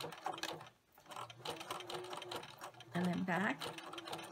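A sewing machine runs a narrow zigzag stitch along fabric for a candy corn banner, its steady mechanical whir continuing under a brief spoken remark.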